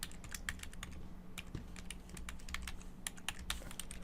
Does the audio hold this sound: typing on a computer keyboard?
yes